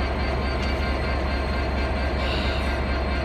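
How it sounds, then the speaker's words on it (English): A steady, heavy rumble of DB Class 66 diesel freight locomotive 66174 idling close by at Exeter St David's station, an unbroken engine drone with no voices over it. "hoping to try and get this freight train underway on time"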